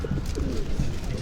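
Pigeons in Washington Square Park coo close by in a brief, low, throaty burble that carries through the whole short moment, with no talk over it.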